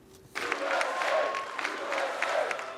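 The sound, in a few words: crowd applause on election night 2016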